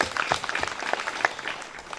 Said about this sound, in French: Je voulais qu'on applaudisse pour ce papa s'il vous plaît.